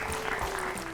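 Brief applause rings out after a correct quiz answer, a short, dense patter of clapping at steady loudness, without talk over it.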